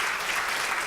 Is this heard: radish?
no